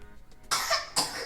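Two short, harsh coughs from one person, close and fairly loud, the second following about half a second after the first, with no talking.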